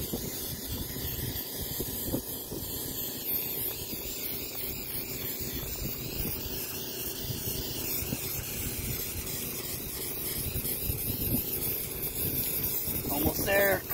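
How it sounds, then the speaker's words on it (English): Steady hissing spray of sealant from an aerosol can onto a cracked solar panel runs throughout, continuous and fairly close, with faint background noise beneath. "All you do is just spray it and apply it over everywhere where there's a crack."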